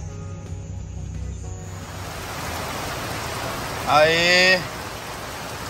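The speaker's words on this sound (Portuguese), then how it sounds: "A chuva aí tá vindo." Heavy rain begins to fall along the BR 230 Transamazonian highway, a broad steady hiss of rain building over several seconds, with someone speaking briefly partway through.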